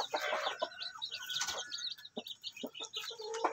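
Native hens and a Belgian Shamo cross rooster clucking in a breeding pen, with steady close, busy chatter of repeated clucks and short calls throughout.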